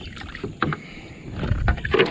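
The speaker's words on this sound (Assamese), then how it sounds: "দেখিছে নাওখন কেনেকৈ হিলিছে চাই লওক।" A small boat rocks and knocks on the water during a fishing trip, with soft splashes and creaks over a faint breezy background and no voices.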